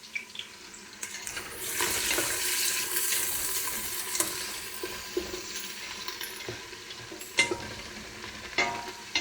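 A spoon stirs chili in a pot, giving irregular scraping and clinking against the metal with a wet, bubbling churn, close and fairly loud, with no talking.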